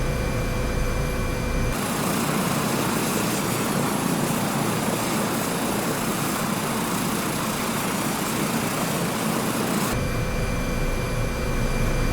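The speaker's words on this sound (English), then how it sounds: "And we will just take off directly from here" Airbus H225 helicopter in Microsoft Flight Simulator 2024 lifting off: a steady, loud turbine and rotor roar that holds at one level throughout, with a deeper, heavier rotor beat in the middle stretch as it takes off.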